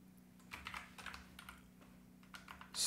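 Typing code on a computer keyboard: a few quick bursts of light, close key clicks in short irregular runs over a faint steady electrical hum, ending with a louder tap.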